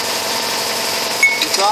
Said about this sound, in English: My nice little noisy air compressor.